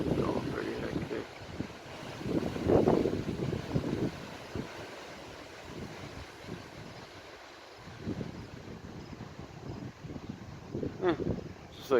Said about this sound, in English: Just like little gusts here and there.